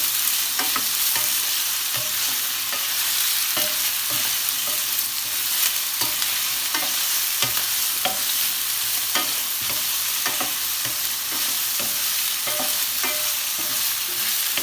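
Onion fries in a pan with a constant bright sizzle, punctuated by regular stirring scrapes about once a second, loud and steady with no talking.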